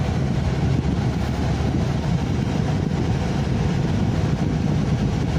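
A 2011 Toyota Prius hybrid with a check engine light on drives along, its motor running as a steady broadband rumble with road noise, heard from inside the car without any talk.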